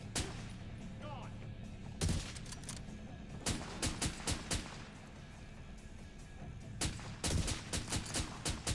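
An SVD rifle fires in The Division 2 video game, with sharp, snapping shots spaced irregularly, sometimes in quick clusters, and a background of distant combat noise.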